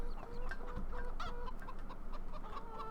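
Chickens cluck in a Farming Simulator 2017 farmyard, a steady stream of soft overlapping clucks and calls at close range with continuous background ambience.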